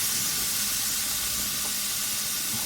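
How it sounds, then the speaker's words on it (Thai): Oil sizzles and hisses steadily as flour-coated fish fries in a pan, a constant crackling texture heard close up with no talking. "ทอดปลาให้สุกนะครับ ให้เหลืองกรอบนะครับ"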